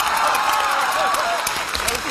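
Studio audience applause during a Chinese comedy variety show, steady dense clapping filling the whole stretch with a crowd murmur and a voice briefly over it.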